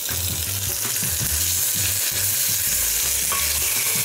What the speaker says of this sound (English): Saute these onions until they're golden brown.